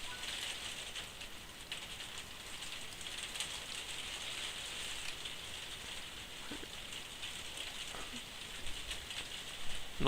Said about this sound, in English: Really is raining.